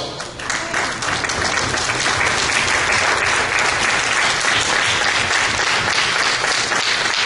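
A church congregation applauds loudly and continuously, a dense wash of many clapping hands filling the room, steady from start to finish with no speech over it.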